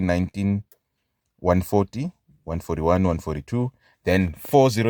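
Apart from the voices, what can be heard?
No everyday noise stands out behind the speech.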